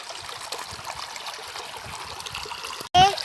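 A river stream flows steadily at a riverside picnic spot, a continuous close wash of water ending in a sudden loud knock.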